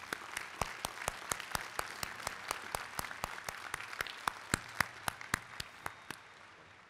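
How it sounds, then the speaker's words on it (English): Sustained applause from a large crowd at a 2018 Ohio State University spring commencement ceremony, a dense steady patter of clapping lasting throughout with sharper claps standing out, no talk over it. "Thank you very much, and another round of applause for Dr. Sue Desmond-Hellmann."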